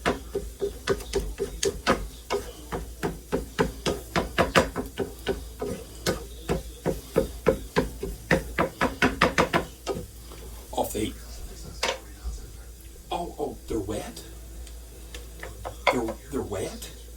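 Eggs stirred in a hot pan, rhythmic scraping taps of a utensil against the pan at a steady pace that later slows and grows irregular, with someone talking over it.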